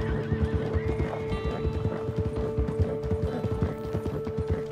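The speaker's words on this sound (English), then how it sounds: "Ooh, look at those horses." Horses in Red Dead Redemption 2 neigh and whinny over a steady clip-clop of hooves, close and fairly loud throughout, with no talk.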